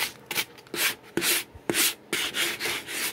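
A hand smooths wet plaster over a belly cast in close, repeated rubbing strokes, a rhythmic series of soft swishing scrapes with brief gaps between them.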